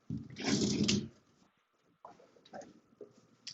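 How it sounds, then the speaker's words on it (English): Dogs bark at a distance, starting with one longer bark burst, then a few quieter barks and yips. "Some dogs barking."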